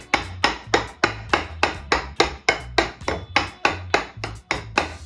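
Knife repeatedly stabbing into a raw turkey on a board, about thirteen steady rhythmic thuds with sharp attacks over roughly five seconds, close and fairly loud.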